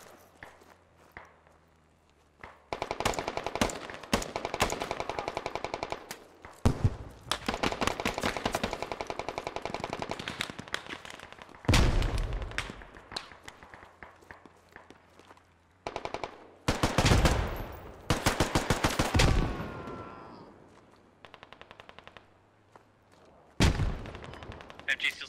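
Bursts of automatic gunfire and scattered shots from a modern combat video game, Squad, in a street fight against a Chinese Red Army force, with repeated loud volleys, pauses between, and faint footsteps underneath.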